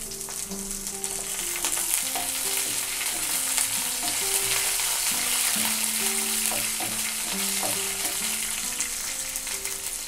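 Green chillies and curry leaves sizzling in hot tempering oil in a pan, a continuous crackling fry with occasional stirring scrapes, close and moderately loud, no talk.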